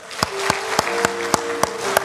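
A congregation gives welcoming applause during a church service, about seven sharp, evenly spaced claps in unison, with a sustained tone held underneath.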